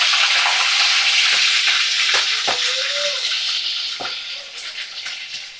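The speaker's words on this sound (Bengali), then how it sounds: "চিংড়ি মাছগুলোকে এবারে কড়ার মধ্যে ছেড়ে দেব।" Shrimp hit hot oil in a kadai and fry with a loud, dense, close sizzle, punctuated by a few sharp clinks and knocks, while a voice is faintly heard.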